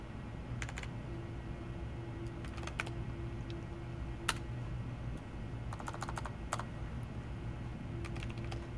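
Computer keyboard typing while writing Unity code for simple FPS movement, with scattered soft key clicks in short bursts over a steady low background hum.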